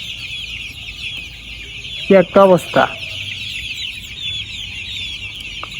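Many young layer chicks crowd together on a poultry farm during a power cut, keeping up a dense, continuous high chirping, broken by a few short, louder clucks near the middle and a brief spoken remark.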